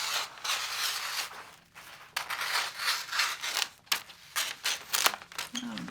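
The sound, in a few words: scissors cutting wrapping paper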